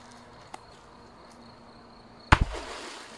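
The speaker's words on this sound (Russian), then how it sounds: "Это в 2 раза мощнее, чем предыдущая петарда." After a few quiet seconds of faint background hum, a single loud Korsar 50000 firecracker bang bursts close by in a sewer, followed by a brief echoing crackle.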